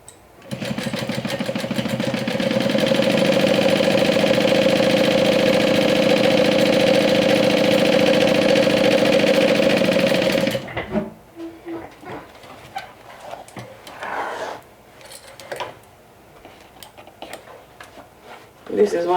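A sewing machine runs steadily for about ten seconds, close and loud, stitching lining pocket pieces along a top seam, then stops, leaving softer handling noises and a final short burst.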